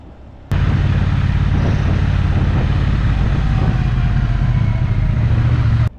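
Triumph T120 motorcycle engine running steadily while riding on a tour road, a loud continuous low throbbing exhaust note that holds even and close from start to finish.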